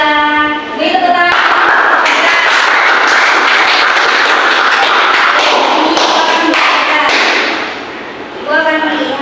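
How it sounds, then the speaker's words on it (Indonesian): Classroom applause for a group of primary-school students, a dense, steady wash of many hands clapping at close range that holds for most of the clip, with voices at the start and end. "Terima kasih kelompok 2. Beri tepuk tangan."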